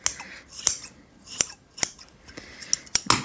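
Scissors snip excess fur from a handmade fluffy purse: several sharp, crisp cuts at an uneven pace, with quicker snips near the end, close up and alone.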